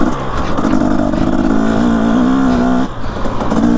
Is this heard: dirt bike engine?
yes